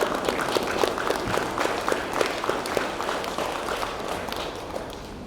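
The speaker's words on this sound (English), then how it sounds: "Give them an applause. Clap them, come on." Graduation audience in Ebeye claps, a dense patter of many hands with sharp individual claps standing out, fairly close and steady before thinning slightly toward the end.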